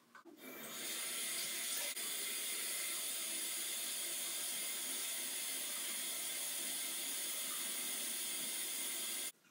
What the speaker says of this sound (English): Rinse off lather with lukewarm water and pat your face dry with a towel.